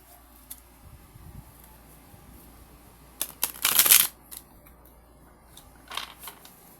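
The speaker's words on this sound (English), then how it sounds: "I'm shuffling in on my lap" Soft rustling and a brief, loud riffling burst of tarot cards being shuffled on a lap in the middle, with a few lighter card flicks afterward in a quiet room.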